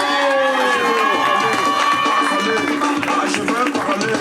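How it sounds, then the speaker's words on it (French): Congregation at a church service breaking into applause and cheering after a prayer, dense and continuous throughout, with voices mixed into the crowd noise. "On l'applaudit."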